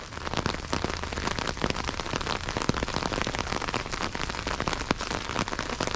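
Steady, heavy rain pattering on surfaces, a dense continuous hiss of drops with no voices.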